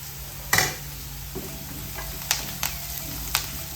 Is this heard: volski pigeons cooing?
no